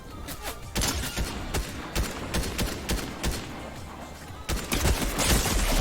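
Video game gunfire in rapid bursts, loud sharp volleys of shots coming in clusters, with a heavier barrage near the end.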